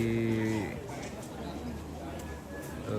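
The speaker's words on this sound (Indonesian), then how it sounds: "Sudah mulai kerbau diarak ke halaman ini" Water buffalo are paraded into the yard of a Tongkonan house during a Toraja Rambu Solo' funeral ceremony, with a long low moo at the start over a dense crowd murmur and distant chatter that carries on throughout.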